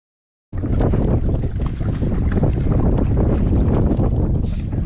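Strong gusting wind over the water at the Thermalito Afterbay roars across an open microphone outdoors, a loud, continuous rumble starting abruptly and holding steady without talk.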